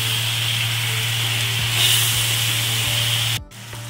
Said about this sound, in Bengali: আর একটু কসুরি মেথি দিয়ে দিলাম। দিয়ে ভালো করে কষিয়ে নিচ্ছি।